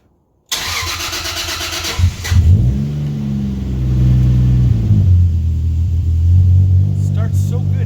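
A Toyota Supra MK4 is started after its cooling system has been worked on. There is a loud burst, then brief cranking as the engine catches, settling into a steady, close, deep idle rumble.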